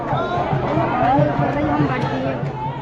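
Dense crowd of Holi pilgrims and visitors pressing toward Banke Bihari temple in Mathura, a steady close babble of many overlapping voices with shouts and chatter throughout.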